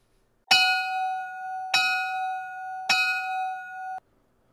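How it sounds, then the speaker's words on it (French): Three bright bell dings, evenly spaced about a second apart, each ringing on with a clear sustained tone before cutting off; no voices. "commençons en force avec le haut son de la cloche"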